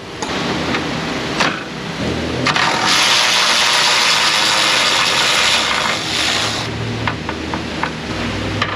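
Mechanical work on a car's horn mounting in an auto repair shop: rapid ratcheting clicks at the start and end around a sustained whirring, grinding stretch in the middle, close and fairly loud.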